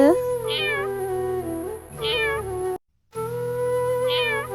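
A cat meows three times, loud and close, each a drawn-out cry spaced about a second and a half apart, with a brief silent gap.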